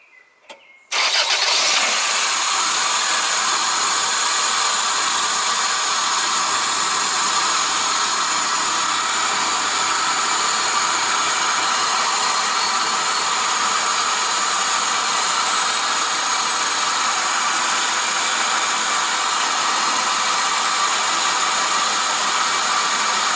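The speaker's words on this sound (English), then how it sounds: "I start this engine and then I rotate those tools, and that we can maybe hear this idle speed change" Toyota Corolla engine (1992–2002 model) starts with a brief crank and then idles steadily and fairly loud while its idle speed is adjusted, a constant broadband whir with no talking.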